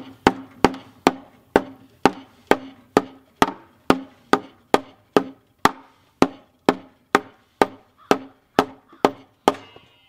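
Repeated sharp wooden knocks at an even, brisk rhythm, like a hammer striking a board, as a timber-frame door jamb board is driven into place, each hit ringing briefly before the next.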